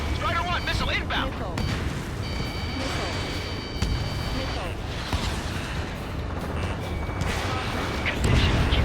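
An incoming missile's blasts in Ace Combat 7 keep booming and rumbling through dense jet and combat noise, with a steady tone warning over part of it and a heavier impact at the end, while radio voices talk over the action.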